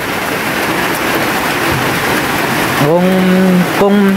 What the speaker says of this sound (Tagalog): kasi malakas yung ulan dito sa amin